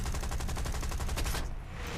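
Hispano aircraft cannons on a Tier II British plane in War Thunder fire in a rapid, continuous burst of loud, dense pops, which break off abruptly near the end and give way to engine drone.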